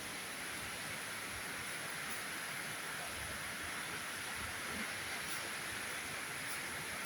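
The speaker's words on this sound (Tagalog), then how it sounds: "Gusto ko yan. Umuulan." Dense, steady hiss of heavy rain pouring without letup in Milan, Italy, a constant wash of noise heard from indoors with no voices.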